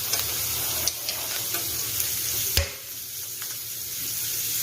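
Rice frying on a tawa with pav bhaji masala, with spoon scrapes and stirs at a steady pace over a constant close sizzle and a sharp clank near the end.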